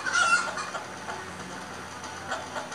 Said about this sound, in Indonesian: Ayam. Chicken.